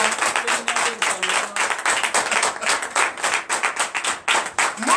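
Rhythmic congregational clapping at a Sunday church service in Comè, Benin, sharp, fairly regular hand claps from many people in unison, with a faint sung or spoken tone beneath early on.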